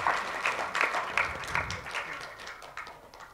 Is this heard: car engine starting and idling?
no